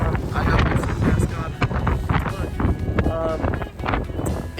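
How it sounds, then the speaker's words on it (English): Wind buffeting a microphone outdoors on a cold university campus, a steady loud low rumble with gusts throughout, with some speech mixed in. "it's a bit windy"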